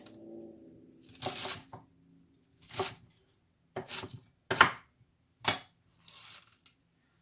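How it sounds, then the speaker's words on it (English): A knife slices down the sides of an ear of corn while making vegetable soup, giving about six short, crisp cutting scrapes spaced roughly a second apart, close and fairly quiet, with no talking. "I'm just going to slice down the sides of it with my knife here"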